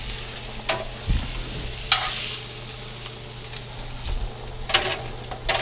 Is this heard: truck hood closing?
no